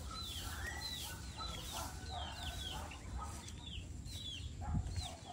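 Free-roaming chickens on a rural farm cluck and chirp in a steady scatter of short calls, fairly close, with a constant low rumble of outdoor background noise underneath.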